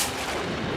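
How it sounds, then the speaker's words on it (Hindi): A single loud, booming gunshot blast with a broad, noisy burst filling the brief moment, close and harsh. "ये तो गोली की आवाज है"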